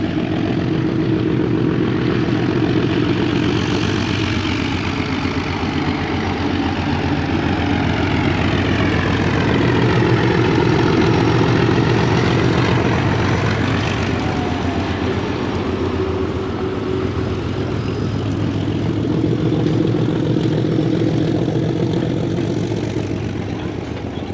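A Durango & Silverton diesel locomotive labours as it pulls into town, a loud, continuous engine drone and rumble that holds steady and close throughout.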